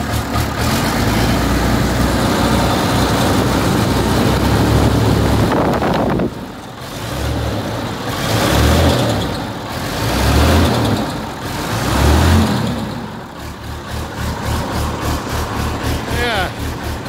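A Massey Ferguson 1135 tractor engine, running a bit smoky after months parked, idles loudly up close, then dips and swells in a few slow surges before settling back to a steady chug, with someone talking over parts of it.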